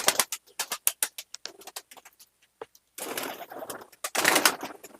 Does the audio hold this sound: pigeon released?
yes